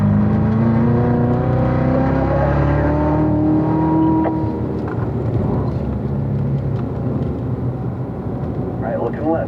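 A car driving on the Spring Mountain race track, its engine droning steadily and rising in pitch as it accelerates, loud and continuous while a driving coach talks over it.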